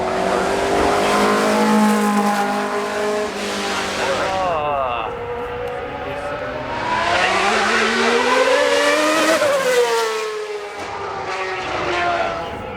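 Grand Prix racing cars at the Goodwood Festival of Speed scream past, engines revving with rising and falling pitch as they approach and pull away, with commentary audible underneath.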